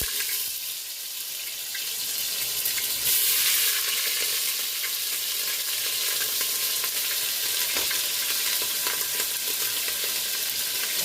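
Ham chunks frying in hot grease in a pot, giving a steady, close, crackling sizzle that holds at an even level throughout with no talking.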